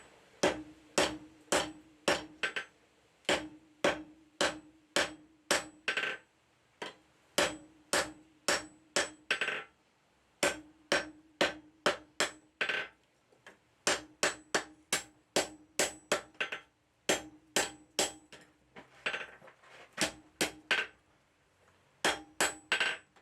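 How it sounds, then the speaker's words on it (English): Hammer blows setting rivets on blacksmith tongs at the anvil, rapid runs of sharp ringing metallic strikes in rhythmic bursts with short pauses between them, close and clear with no talking. "Once the rivets are starting to set, then you can go to a heavier hammer"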